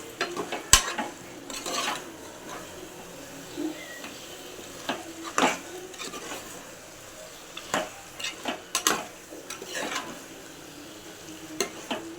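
Half a kilo of chicken frying in biryani masala in a pot, soft sizzling beneath intermittent scraping stirs and occasional clinks of the spoon, fairly quiet and close.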